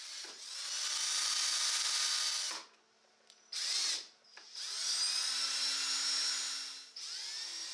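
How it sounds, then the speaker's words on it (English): A power drill drives screws to fasten a wooden tabletop to a box, heard as loud, steady whining bursts: a long run, a short one, then another long run, with brief pauses between. "I clamped down the tabletop to the box and sank some screws to secure it."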